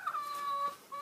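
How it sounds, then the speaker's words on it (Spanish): Soft, drawn-out tonal clucking from backyard hens comes faint and close over a quiet background. "Aquí están las gallinas."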